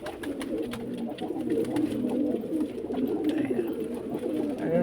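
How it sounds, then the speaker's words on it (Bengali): A young male pigeon cooing close by, a steady low throaty murmur that continues through the whole stretch with little pause. "এটা মদ্দা পায়রা বাচ্চা দেখো ডাক দিচ্ছে"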